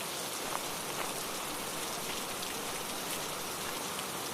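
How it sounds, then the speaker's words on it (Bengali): Steady rain falls outdoors in an even, dense hiss of drops on surfaces, with a few sharper individual splashes standing out, continuous and fairly close with no voices. "এই বৃষ্টির ভিতর আবার কে এলো?"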